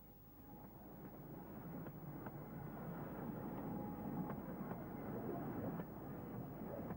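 Welshpool and Llanfair Light Railway locomotive number 10 runs with a steady rumble and faint rhythmic chuffs and clanks. The sound is fairly quiet and distant, with some wind noise and no clear talk.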